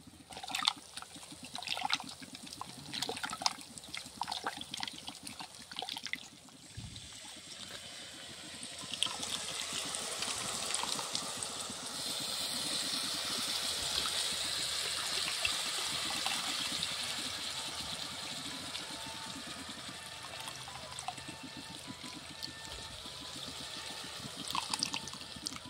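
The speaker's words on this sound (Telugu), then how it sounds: "ముందుగా కడిగి నానబెట్టుకున్న చింతపండు జ్యూస్ లాగా చేసి కూరలో పోస్తా." Tamarind juice is poured into a simmering fish-egg curry, a close liquid splash and trickle that settles into a steady pour before fading into a softer dribble.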